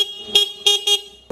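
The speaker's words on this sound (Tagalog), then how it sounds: "Meron tayong busina" A car horn on a Motur electric vehicle honks in several short bursts, three quick toots followed by a fourth starting at the end, loud and close.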